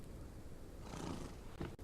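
A horse whinnies from the stables in an Old West outlaw video game, a short, fairly faint call rising near the end over a steady low ambient bed, with no talking.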